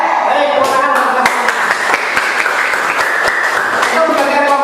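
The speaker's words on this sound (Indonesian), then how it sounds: "Baik, tepuk tangan." A group in an Indonesian classroom activity claps hands, a lively patter of claps mixed with voices and chatter in a reverberant room.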